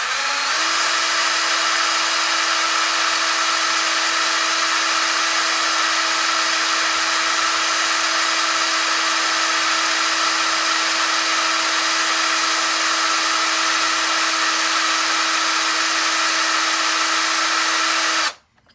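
Rotary tool filing out plastic on a Magpul rifle part, a loud, steady high-pitched whine held for nearly twenty seconds before cutting off abruptly.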